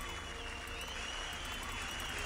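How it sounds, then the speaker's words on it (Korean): Applause sound effect in the mobile game Seven Knights: a continuous, even wash of clapping crowd noise at moderate level for a couple of seconds. "어, 박수를 막 쳐줘."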